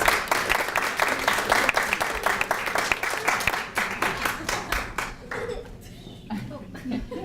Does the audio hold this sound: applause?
yes